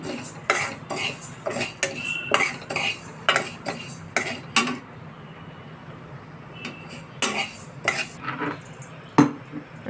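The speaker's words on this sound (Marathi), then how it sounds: "आता मुगाची डाळ भाजायला टाकली. खमंग भाजून घ्यायची चांगली." Moong dal dry-roasting in a pan for metkut while being stirred, with a steady run of spatula scrapes and clinks against the metal in an irregular rhythm, close by and moderately loud.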